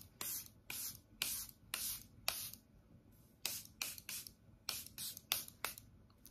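Around a dozen short hissing sprays from a close-up spray bottle, fired in quick bursts with brief pauses between them.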